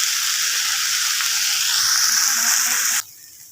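Vegetables fry in hot oil in a pan, giving a loud, steady crackling sizzle that runs close and unbroken before dropping away sharply near the end.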